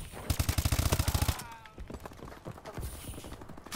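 A fast, loud automatic burst from the Battle 27 gun in a shooter game, a dense rattle of rounds followed by scattered quieter shots and brief voices.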